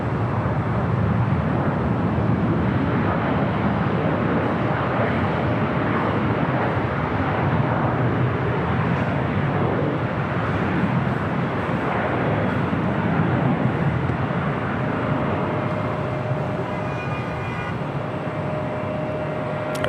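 Airliner departing LAX runway 25 right, a steady broadband jet roar from a distance holding for the full stretch, slowly easing toward the end, with no voices.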